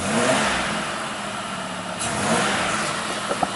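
The engine of a '93 Buick V6 with a fault that makes it stall and backfire revs on a quick throttle snap, giving a brief rising roar that settles back near idle, with a sharp pop at the end.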